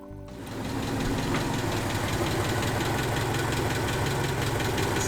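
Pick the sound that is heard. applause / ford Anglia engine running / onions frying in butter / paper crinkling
ford Anglia engine running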